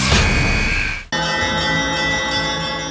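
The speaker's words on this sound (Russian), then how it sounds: "Колокольный звон" Church bells ring out at the start of a judo tournament in Samara. There is a bright, loud peal with a sustained resonant hum, and after a brief cut the dense ringing carries on with no talk.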